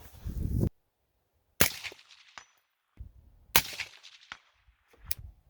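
Three sharp rifle shots from an 18-inch gun firing 77 grain bullets outdoors, each a loud crack with a brief echoing tail, spaced about a second or two apart, with a faint metallic ring after one.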